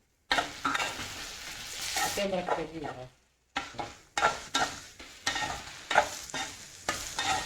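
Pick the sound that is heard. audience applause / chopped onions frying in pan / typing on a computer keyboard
chopped onions frying in pan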